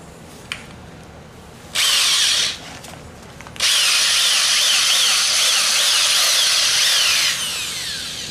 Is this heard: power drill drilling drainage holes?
yes